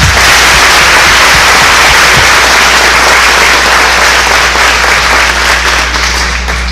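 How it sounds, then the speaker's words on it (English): An audience applauds for schoolchildren at a morning Veterans Day tribute, a loud, dense, sustained wash of clapping that carries on steadily without pause, with a few sharper individual claps standing out. "Let's give our kids a round of applause this morning"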